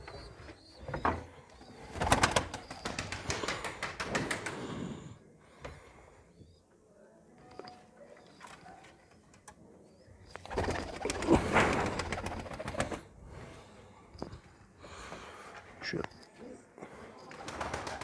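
Pigeons in a coop give soft, low cooing calls amid rustling and handling noises, with louder bursts of activity early and again past the middle, heard close by.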